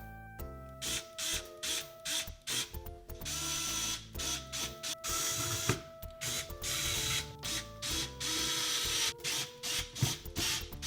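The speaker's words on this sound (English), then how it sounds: "And then we can start putting the screws back in." Small screws being driven back into a Game Boy Color case with a small electric screwdriver: repeated short bursts of high-pitched whirring, each lasting under a second, close and alone.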